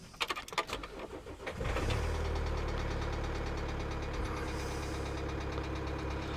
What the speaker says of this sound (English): I'll actually let you hear the engine. That's a bad knock.